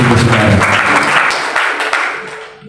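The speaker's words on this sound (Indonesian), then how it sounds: "Kasih tepuk tangan yang paling meriah bagi Tuhan, saudara." A church congregation at a prayer and fasting session on Mount Salak, Bogor, breaks into loud, dense applause that holds steady, then thins and fades out near the end.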